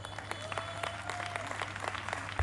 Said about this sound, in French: On applaudit d'abord.